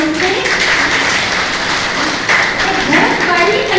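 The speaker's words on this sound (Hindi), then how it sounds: "एक बार ताली बजाओ सब जोर से।" An audience at a Brahma Kumaris ashram gathering in Nandgaon claps loudly in a dense, continuous patter, with voices speaking over the applause.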